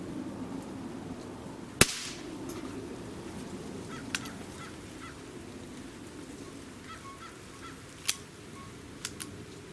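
A Smith & Wesson 78G or 79G CO2 air pistol fires one sharp, loud crack early on, followed by a few fainter clicks and ticks against a low background hum.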